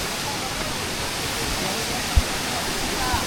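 Chondhe's Maruti waterfall near Shahapur in Thane, running with lower water than usual during the rains, gives a constant broad roar, with a couple of brief knocks and faint crowd voices beneath it.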